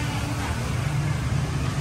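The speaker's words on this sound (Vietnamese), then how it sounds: "mà vừa nghe tiếng xe máy nó chạy." Motorbike engines hum steadily along a street, a low continuous drone that stays fairly even throughout with no clear individual pass-by.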